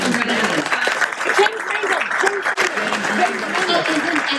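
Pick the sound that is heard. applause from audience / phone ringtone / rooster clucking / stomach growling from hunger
applause from audience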